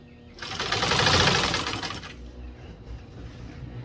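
A commercial sewing machine binds the edge of automotive carpet, giving a fast, loud mechanical rattling burst of stitching that lasts about two seconds before easing off into a quieter hum.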